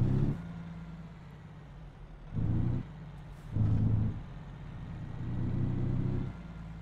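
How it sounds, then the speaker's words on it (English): Engine drone of a truck in American Truck Simulator, set in Wyoming, a steady low rumble alone that swells in louder bursts, with several short surges spaced across the stretch as the engine works. "I'm not so sure what I think about the sound of this truck, to be honest."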